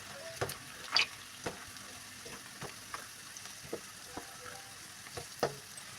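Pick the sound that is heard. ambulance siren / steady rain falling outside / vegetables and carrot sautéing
vegetables and carrot sautéing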